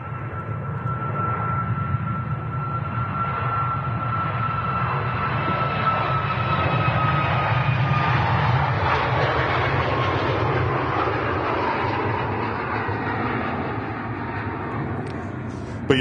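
A TUI jet takes off from Manchester Airport with a loud, sustained engine roar and a high turbine whine that slowly falls in pitch as the aircraft climbs away.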